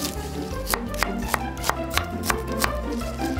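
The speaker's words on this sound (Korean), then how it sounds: "거기다 갖은 채소 썰어" Assorted vegetables chopped with a knife for a braised mackerel and dried radish greens dish, a steady run of about nine evenly spaced sharp knocks on a cutting board, close and loud over a low background hum.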